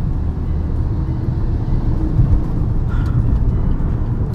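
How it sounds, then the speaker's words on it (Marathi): A car's engine rises under acceleration during an overtake, a steady loud broadband drone with road and wind noise throughout, heard from inside the vehicle with no talking. "ॲक्सिलेटर दिला"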